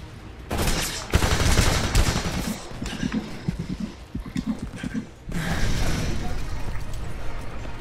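Gunfire in the video game Homefront: loud, sustained bursts of rapid machine-gun fire with heavy shots, briefly easing in the middle before swelling again, with voices in the game under the barrage.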